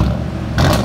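A 2003 Cadillac Escalade with a 5.3L V8 and true dual exhaust rumbles deep at idle, then gives a brief blip of throttle that lifts the tone for an instant.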